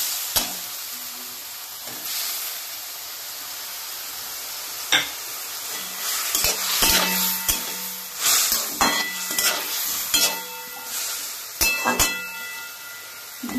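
Hog plum simmering with fish roe in a pan for a chutney, a soft bubbling sizzle broken by clattering stirs and metal scrapes, growing busier toward the end, with no speech.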